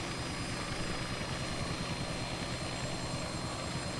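A helicopter flies in a flight simulator game, its steady, dense rotor and engine drone holding constant throughout, with no talk.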